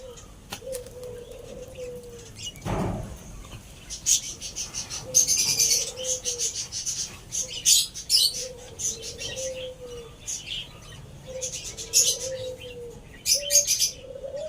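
A pair of spotted doves, newly bought cage birds, giving repeated soft cooing calls at a steady pace, with bursts of chirping and wing flutters over a faint insect hum and a brief thump early on.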